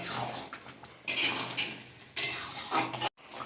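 Mutton and potatoes are stir-fried in a pan, a spatula scraping and clattering against the metal in repeated bursts over a faint sizzle, ending with a short pause.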